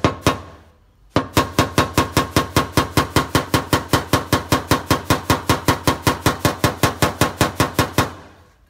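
A hammer taps steadily on car fender sheet metal during paintless dent repair: after one opening knock comes a rapid, even series of sharp metallic strikes, close and loud, then a stop.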